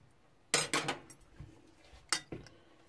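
A spoon stirs pickle juice soup in a bowl, clinking against the sides in a few quick scraping knocks, with a pause and then two more taps, close and fairly quiet.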